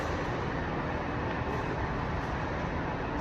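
A train bound for Plymouth sends a dense, steady rumble and roar through the carriage, constant and fairly loud with no distinct clacks and no voices.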